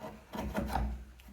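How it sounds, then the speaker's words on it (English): A chisel held flat pares high spots off a flat wood surface, giving a short, soft scraping rasp with a few light strokes close by. "then just clean it up with your chisel"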